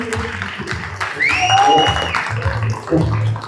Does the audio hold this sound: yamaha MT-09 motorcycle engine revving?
no